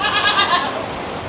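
Milking goats in a pen on a Singapore farm bleat in a short burst of quavering calls, fairly close, then fade to quiet background.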